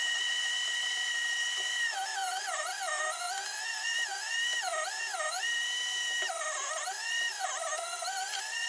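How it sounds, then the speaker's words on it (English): An electric meat grinder grinds steak for a bacon burger, giving a steady motor whine whose pitch keeps bending and wavering as the meat loads the auger. It runs close and continuous throughout, with no talk. "grind up your steak."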